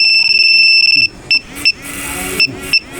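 A Mio Gear motorcycle's anti-theft alarm, a loud close electronic tone held steadily for about a second, then a few short chirps with soft rustling and handling noises between them.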